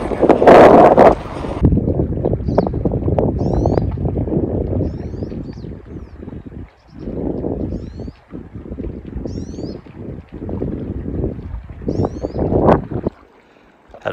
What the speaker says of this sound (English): Crazy wind across here.